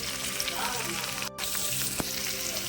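Onions sizzling in hot oil with chana dal and curry leaves, a steady dense frying crackle that fills the clip, with a brief drop near the middle and a sharp pop or clink soon after.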